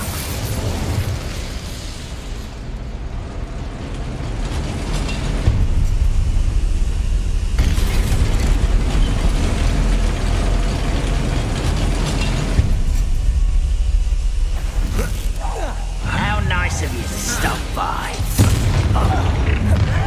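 In Hogwarts Legacy, fiery spell effects go off as a series of deep booms and rumbling bursts that surge and recede over about twenty seconds, loud and close with crackling blasts.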